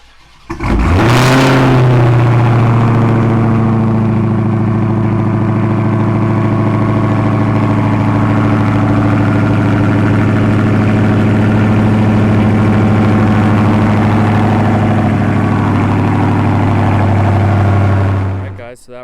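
A 2020 Dodge Charger Hellcat Widebody fitted with Carven exhaust tips cranks and fires with a loud bark, then settles into a deep, steady, rumbling idle that holds for about fifteen seconds before cutting off.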